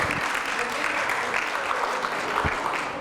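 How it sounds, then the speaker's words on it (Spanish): Audience applause at an optimism talk, many hands clapping in a dense, even burst that fills the room, loud and sustained throughout. "estoy muy contento de esos aplausos"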